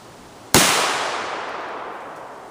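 A single loud close blast from a Remington Mohawk 48 shotgun firing a rifled slug, a sharp crack followed by a long fading echo.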